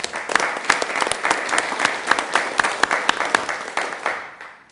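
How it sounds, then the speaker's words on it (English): A city planning commission audience gives a sustained round of applause, dense steady clapping from many hands that fades out at the end. "I think we should give them a round of applause."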